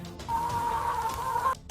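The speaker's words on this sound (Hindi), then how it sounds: "हाँ, इतनी सारी मुर्गियां, वो भी मेरी जमीन पे।" Chickens cluck and squawk in a cartoon scene, a steady, loud burst of fowl calls lasting over a second, close and alone without talk.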